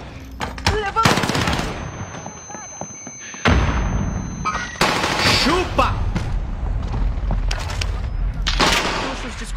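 Gunfire in the shooter video game Warzone comes as rapid automatic bursts and heavy booms, loud and dense through most of the stretch with a brief lull, mixed with voices and game sounds.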